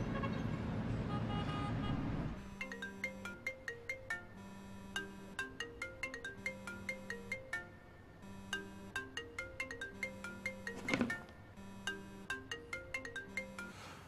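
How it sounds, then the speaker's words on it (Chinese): A phone call rings out unanswered while the caller waits, a repeating melodic ringtone pattern after a brief burst of street traffic noise, clear and steady for over ten seconds. "我先给邵仲打个电话。"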